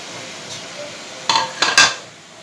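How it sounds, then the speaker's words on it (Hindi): A few quick clatters of meat dropping into a metal pot, three short bursts close together after a quiet start. "गोश्त डाल दी इसके अंदर।"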